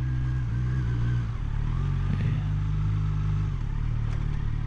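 A 2020 Kawasaki Z900 A2 motorcycle, restricted to 35 kW, runs at a low, steady engine note with slight variations as it pulls through a slow U-turn, fairly close and with no talk over it.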